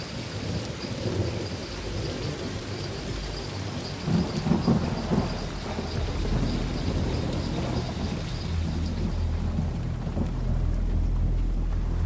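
Night thunderstorm with heavy rain on the Congo River, steady downpour hissing throughout under deep rolling thunder that swells and rumbles louder toward the end, no voices.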